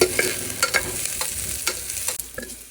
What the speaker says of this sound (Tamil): வெங்காயத்தை உள்ளே போட்டு வேண்டியதுதான்